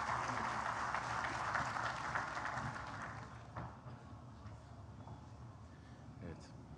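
An audience at a party ceremony in Istanbul applauds with a broad wash of clapping that holds for a few seconds and then fades. A voice is heard alongside it.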